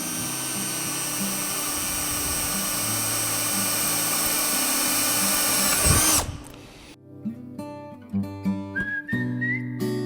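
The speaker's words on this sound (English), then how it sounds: "I'm going to drill each hole now" A power drill bores holes in a wooden pedestal table part held in a vise, a loud steady whining drone for several seconds that cuts off, followed by clunks and handling knocks.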